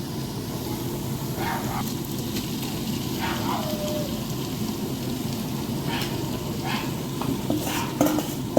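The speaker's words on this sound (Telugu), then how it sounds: "అల్లం వెల్లుల్లిపై వేసుకున్నాం కదా పచ్చివాసన పోయిన తర్వాత ప్రాన్స్ వేసుకున్నాం" Prawns fry in a pan over ginger-garlic paste, giving a soft, steady sizzle with occasional faint clinks and stirring scrapes, heard alone at a moderate distance.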